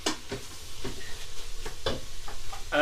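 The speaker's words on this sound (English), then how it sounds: "That's the garlic gone in, by the way, and give it a stir." Garlic sizzling in a frying pan for a vegetable and bean soup, with a few scraping stir strokes and light clicks spaced through a quiet, steady frying hiss.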